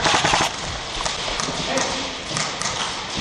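Airsoft guns firing indoors in a rapid, continuous rattle of sharp snaps that runs through the whole moment, loud and close.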